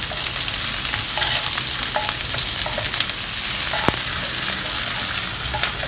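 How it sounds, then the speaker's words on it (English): Sliced onion frying in hot oil in a pan, a loud continuous crackling sizzle with scattered sharp pops and a few stirring knocks. "In a pan, put in some oil. 1 whole onion sliced."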